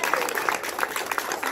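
An audience at a youth summer performance claps, a brisk, fairly loud patter of many hands with some crowd voices mixed in beneath.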